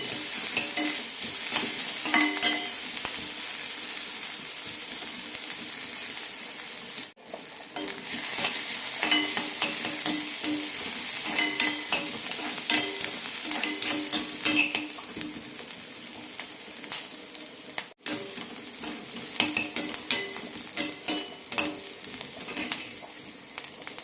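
Chopped onions with curry leaves sautéing in a pan for bun dosa batter, a continuous close sizzle broken by frequent stirring scrapes and clinks of the spoon against the pan, with no talking.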